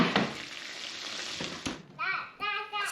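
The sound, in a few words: batter sizzling in hot pan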